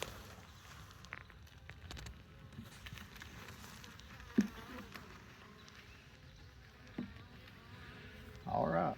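Honey bees buzzing steadily around an opened beehive while boxes are stacked and beetle jails installed, a continuous low hum with occasional knocks and a brief rustle near the end.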